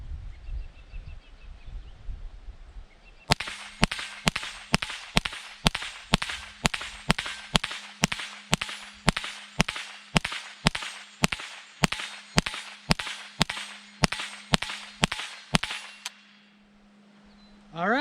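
A Ruger 10/22 target rifle fed from a clear BX25 25-round magazine fires about twenty-five rapid, evenly spaced sharp cracks, each with a brief ringing tail, outdoors at close range with no talking, then stops after the magazine empties.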